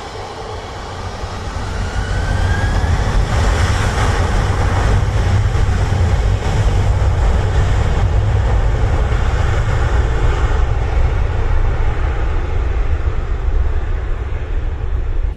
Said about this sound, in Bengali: রানওয়ে ধরে এগিয়ে আসছে একটি বিমান, কাতার এয়ারলাইন্সের এয়ারবাস A330 মডেলের বিমান